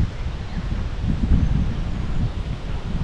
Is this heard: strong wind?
yes